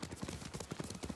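Horse hooves clip-clop in a steady, rhythmic trot across terrain in the samurai video game Ghost of Tsushima, fairly close and moderately loud with no talking over them.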